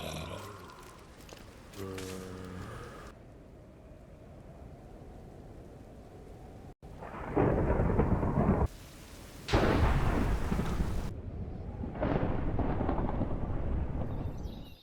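Rain and thunder in the Minecraft video game: steady rain hiss with loud broadband thunder crashes rolling in and out, fairly loud and close, without talk.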